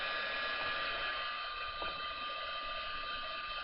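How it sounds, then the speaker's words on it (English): A heat gun blows a steady, loud whir over white school glue used as a gel medium, a constant airy hum running unbroken throughout with no talk. "Let's hit it with the dryer, the heat gun real quick."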